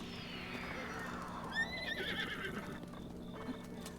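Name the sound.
horse neighing and hooves, video game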